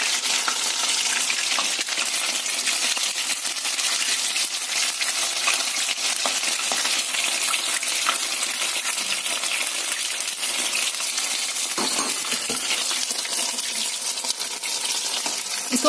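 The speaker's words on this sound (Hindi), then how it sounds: "इसको गोल्डन ब्राउन होने तक ऐसे ही पका लें, फ्राई कर लें।" Fish kebabs fry in a pan until golden brown, giving a loud, steady sizzle that runs unbroken throughout with no one talking.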